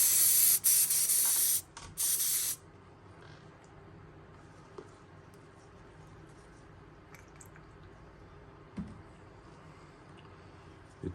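An airbrush spraying black paint onto a custom S-Crank KO hisses loudly in several short bursts at the start, then falls to quiet room noise with faint clicks and small handling sounds.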